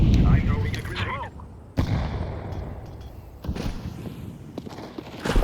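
A grenade thrown and exploding in a video game, one sudden blast cutting through rumbling battle noise, with a later thud, while a person talks over the opening.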